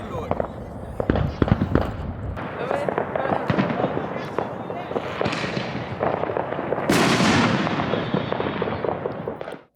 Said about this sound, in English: Can you tell the difference between the fireworks and the gunshots?